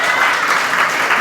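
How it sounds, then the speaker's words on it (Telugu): A church congregation claps together in steady, dense applause, loud and close, filling the room continuously without pause. "చప్పట్లు కొట్టి ఆయనను మహిమపరచండి"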